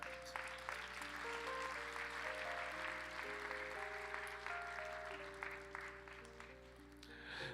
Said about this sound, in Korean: 우리 좀 박수로 좀 축복합시다.